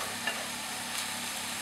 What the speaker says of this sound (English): put it on your highest heat and really in your big pan, and just work it round the pan